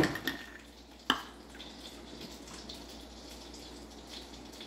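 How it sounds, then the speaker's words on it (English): Milk is poured into pancake batter in a bowl, a steady soft liquid gush with a sharp clink of the container near the start, then continuous quiet pouring. "I'm going to add in the milk"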